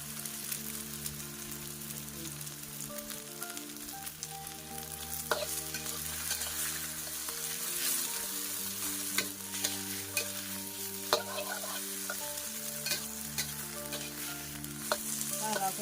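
Tomatoes stir-fry in a pan for fried rice, with a continuous close sizzle broken by scattered pops and occasional clinks of a utensil, steady and moderately quiet throughout.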